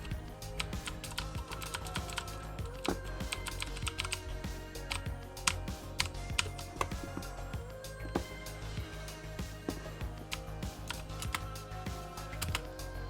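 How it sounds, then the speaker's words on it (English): Rapid keystrokes on a keyboard plugged into a Nintendo Switch during a game of Fortnite, irregular close clicks and clacks in quick flurries with a few sharper hits, continuing throughout. "as you can see, the keyboard is working"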